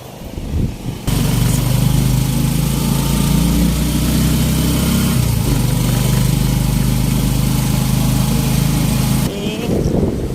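A motorcycle engine starts up after a quiet moment and runs loud and steady nearby, then cuts off abruptly near the end, with a voice faintly audible at the edges.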